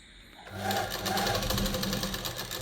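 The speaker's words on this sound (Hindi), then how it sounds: "वो भी हम सिलाई लगा रहे हैं।" A sewing machine stitches the lower pocket seam of a men's kurta, running in one continuous close, loud whirring burst after a brief quiet start.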